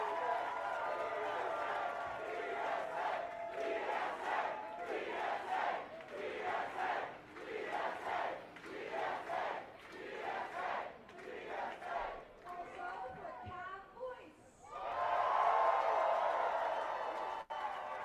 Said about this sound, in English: So, let's hear a round of applause for